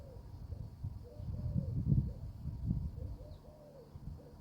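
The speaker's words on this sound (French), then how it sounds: "J'aimerais bien qu'on fasse une séquence oiseau juste 5 minutes." Pigeons or doves cooing softly outdoors beside a swimming pool, several low repeated coos over a faint steady background hum, with gentle outdoor ambience throughout.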